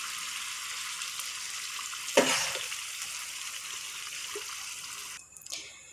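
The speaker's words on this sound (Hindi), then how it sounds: "वो पानी शामिल करेंगे हम इसके अंदर।" Meat stock is poured into a pot of broken-rice biryani, a sudden close splash and gush of liquid that settles into a soft simmering hiss.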